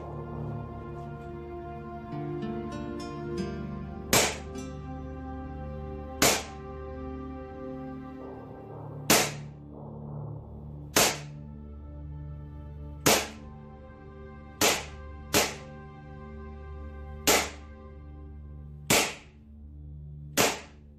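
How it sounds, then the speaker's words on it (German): A Hex Cut 1911 Gen.2 gas blowback airsoft pistol fires about ten sharp, snappy shots of 0.25 g bio BBs at irregular intervals, loud and close over a steady background drone, with no talking. "Jetzt kommen noch mal 10 Schuss und dann gucken wir mal."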